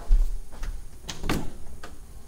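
A walk-in closet door in a house is opened, giving a few separate knocks and a slide-like scrape over a quiet room, close by and moderately loud.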